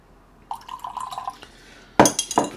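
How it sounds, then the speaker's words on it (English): Water splashes and trickles into a glass of Nc'Nean organic single malt whisky, a short pour with light clinks of glass, followed by a louder burst of liquid and glass handling near the mic. "I'm going to add some water."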